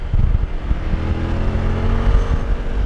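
A 2023 Suzuki V-Strom 1050DE motorcycle engine pulls hard through the gears in a loud, steady low rumble mixed with wind buffeting, heard close from the rider's position.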